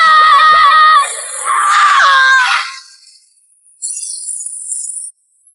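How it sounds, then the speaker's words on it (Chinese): Animated crowd of spectators in a fantasy arena battle, loud and close, erupting in shrill screams and cheers in two bursts, then a brief thinner cry before sudden silence. "原本欢呼雀跃的天竺观众，"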